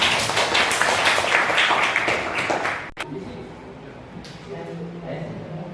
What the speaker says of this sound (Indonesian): Tepuk tangan dua.